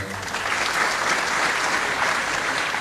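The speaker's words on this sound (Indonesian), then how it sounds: "Tepuk tangan dulu semuanya." A crowd of Bonek football fans claps steadily at a public gathering, a dense wash of applause throughout the short stretch, fairly close and even in loudness.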